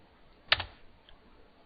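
Fingers tap a computer keyboard in a brief, faint cluster of clicks. Quiet room noise comes before and after.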